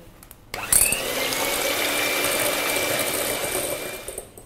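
An electric mixer whisks egg whites into meringue for Turkish coffee macarons, a close, continuous motor whir with a watery whisking texture that starts abruptly and holds steady for several seconds.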